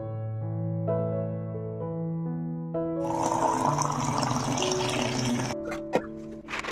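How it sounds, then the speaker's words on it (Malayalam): Water is poured onto a potted plant, a rushing splash that swells over a few seconds after a sustained tonal hum, then stops abruptly. "ഇപ്പോൾ CC പ്ലാന്റിന് വെള്ളം ഒഴിച്ചു കൊടുക്കുന്നുണ്ട്"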